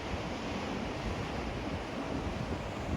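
Water rushes out of a fish ladder on a river beside a short footbridge, a loud, continuous broadband roar with no pauses and no talk.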